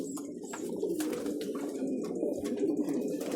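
Imported Taiwan pigeons cooing softly at close range, a low continuous murmur of overlapping coos with a few faint chirps and light clicks mixed in.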